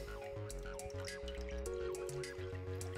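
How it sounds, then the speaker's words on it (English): IPA beer poured into a glass, a soft trickling, dripping pour over a steady tonal hum in the background, no talking. "It's a nice pour."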